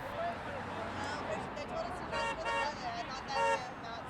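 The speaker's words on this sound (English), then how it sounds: "as people continue to arrive, they mingle and chat while holding signs which receive honks of support" Car horns honk in support of protesters holding signs at a police accountability demonstration: a few short toots and one longer blast rise over steady traffic noise and the murmur of a chatting crowd.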